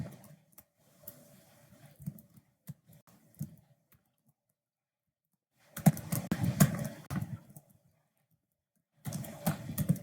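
Computer keyboard keys tapped while playing Cuphead: scattered soft clicks early on, then two dense clusters of rapid presses after a pause, close and without talking.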